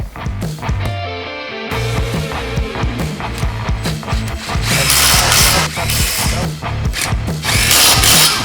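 Power tool driving bolts into the factory threads of a 2026 Toyota Tacoma truck bed during a tonneau cover install, loud and close with repeated bursts of whirring and clattering metal over a rhythmic backing beat.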